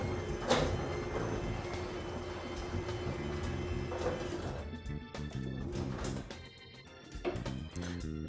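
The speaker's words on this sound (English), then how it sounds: "You hold till the door is in the down position where you want it to" A garage door opener motor hums and drones steadily as it drives the door down, with a continuous mechanical whir and rattle throughout.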